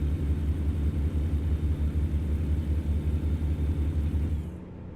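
Kenworth W900 truck engine in American Truck Simulator, a steady low diesel rumble with a rhythmic throb that continues evenly, then cuts off abruptly near the end, no talking.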